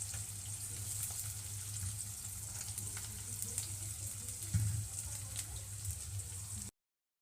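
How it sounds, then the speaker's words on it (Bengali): Onions frying in hot oil, a quiet continuous sizzle with one brief clatter midway, then cutting to silence near the end. "পেঁয়াজটা দিয়ে দেবো তেলে"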